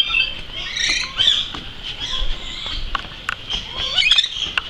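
Birds squawk and chirp repeatedly in shrill bursts at a bird park in Bali, with several calls overlapping at moderate distance over faint background rustle.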